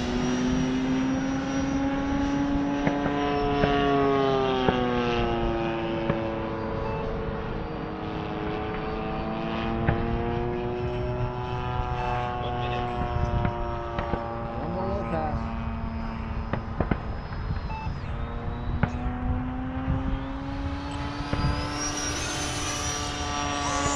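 F/A-18F Super Hornet jet in flight, heard as a steady engine whine with gliding harmonic tones that rise and fall over the full stretch, fairly close, under occasional radio-style talk.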